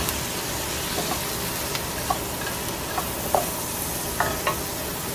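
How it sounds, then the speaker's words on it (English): Garlic sizzles in a frying pan for a vegetable frittata, a constant hissing fry with light stirring scrapes and small taps scattered through it, no voices. "I'm going to add garlic"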